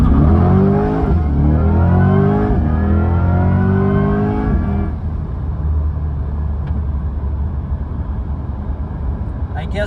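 An electric car in stealth mode accelerates hard at full throttle, its loud rising whine climbing in pitch over several seconds and then settling into a steady road rumble.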